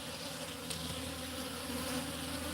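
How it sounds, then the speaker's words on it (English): Many bees hum densely around a sugar water feeder set out in a garden, a steady close buzz holding throughout with no voices. "Look at all these bees."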